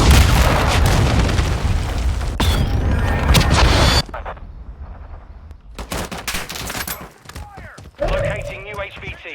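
A cruise missile strike in Call of Duty Modern Warfare 2 lands as a loud, dense roar of blasts and crackling gunfire that cuts off suddenly, followed by scattered sharp shots and bursts with brief game voice callouts.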